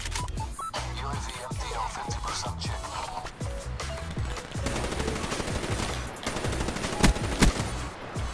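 Rapid pistol fire in a first-person shooter game, a fast stream of sharp repeated shots with a few louder cracks near the end, under a player's voice.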